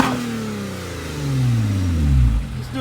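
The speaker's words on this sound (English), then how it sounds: "So give it a gas, Andrew." A 2014 Lotus Evora S with a Larini exhaust, sport mode off, revs up close: a rising engine note swells to a loud peak, then drops back toward idle.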